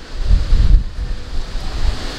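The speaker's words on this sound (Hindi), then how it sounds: "बहुत हवा आ रही है।" Strong cyclone wind gusting through a residential society, heavy low rumbling buffets hitting the microphone in uneven surges, loud and close with no speech.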